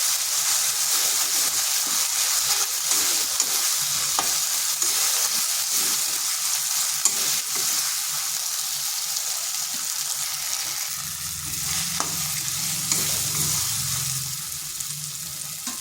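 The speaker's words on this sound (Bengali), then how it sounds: "আদা রসুনের পেস্টটা একটু কষে নিচ্ছি যাতে তার কাঁচা গন্ধটা চলে যায়।" Ginger garlic paste with turmeric fries in a pan for a curry, a continuous close sizzle with occasional stirring clicks and a low bubbling swell toward the end, no voices.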